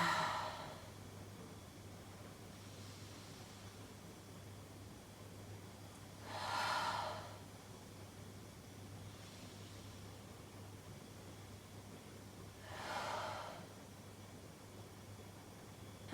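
Deep breathing during a yoga hip-flexing stretch: two slow, soft breaths about six seconds apart, quiet and close, over a steady low hum of room noise, with no talking.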